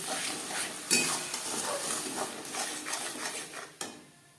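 A ground paste of ginger, green chili, tomato and garlic added to frying onions in oil for egg curry, sizzling steadily while a utensil scrapes and stirs against the pan, with a couple of sharp clinks.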